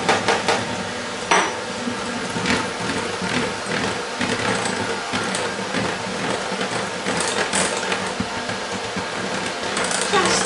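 Yogurt cake batter with oil, baking powder and flour being mixed in a bowl, with continuous rhythmic clatter and knocking of a utensil against the bowl, close and busy throughout.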